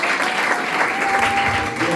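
A church congregation applauds for Jesus at a bilingual French-Norwegian service, steady dense clapping filling the hall for two seconds with no voices above it.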